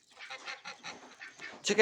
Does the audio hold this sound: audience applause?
no